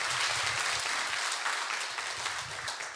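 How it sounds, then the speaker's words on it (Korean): Applause fills a church during a Friday evangelism school service, with the congregation clapping steadily and moderately loud throughout and no voices on top. "많은 응답 주신 하나님께 영광의 박수를 드리겠습니다."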